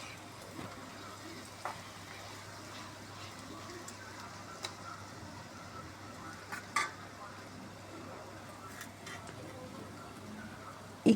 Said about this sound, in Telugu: దీన్ని ఒకసారి కలుపుకుందాం.